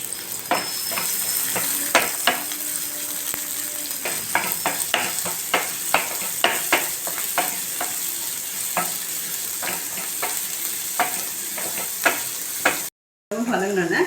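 Shallots and tomato fry in a pan for a Thanjavur village-style country chicken gravy, with a constant sizzle under repeated rhythmic scrapes and knocks from stirring.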